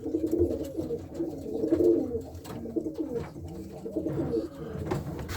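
Several pigeons coo together inside a loft, with overlapping, continuous low throaty warbling throughout, close and fairly loud with no talk.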